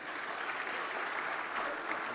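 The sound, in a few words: applause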